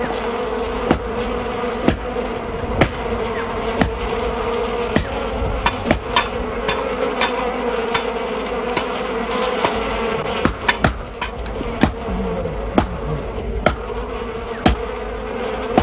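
Bees swarm around a wild honey nest as men chop at the tree and smoke drifts over them, a steady dense buzzing broken by sharp regular chopping knocks, loud and close with no talk.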